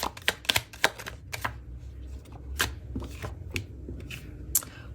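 Tarot cards being shuffled for a reading, a run of quick riffling slaps and soft papery flicks in uneven bursts, close and fairly clear, with no talking.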